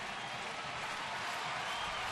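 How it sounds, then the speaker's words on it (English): Baseball stadium crowd in Cleveland cheering for batter Carlos Santana during a Rangers at Indians game, a steady, dense wash of cheering and applause that holds evenly throughout without a break. "As the crowd gets behind Carlos Santana."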